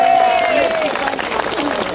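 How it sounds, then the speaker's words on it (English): Crowd applause fills the hall at a World Day for Animals in Laboratories rally in 2013, a dense, steady wash of many hands clapping with a faint whistle-like tone early on, heard alone without speech. "a big round of applause for Adrian Stallwood"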